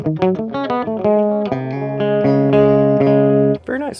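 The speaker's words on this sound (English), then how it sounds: "We're just gonna go jump into the tape echo." Electric guitar through a tape echo effect on a Line 6 Spider Valve HD100 amp, loud distorted notes and sustained chords with repeating echoes trailing behind, played alone without talk.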